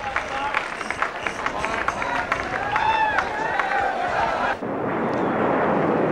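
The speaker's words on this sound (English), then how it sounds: "Air Force fighters overhead." Air Force fighter jets fly overhead during a 1998 Australia–Pakistan cricket test match, a loud roar building beneath crowd noise and commentary, then shifting into a broad rushing wash as the jets pass.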